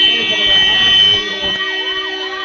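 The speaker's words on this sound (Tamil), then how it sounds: "ஆம்புலன்ஸ் வழிவிடுங்க" An ambulance siren wails with rising and falling pitch, mixed in with music playing throughout.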